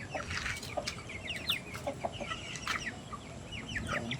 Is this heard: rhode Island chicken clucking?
yes